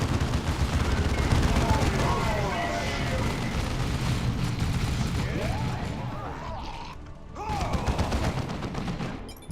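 Battlefield gunfire in the Dawn of War 2 real-time strategy game, a dense continuous crackle of shots and thuds with game voices speaking over the din.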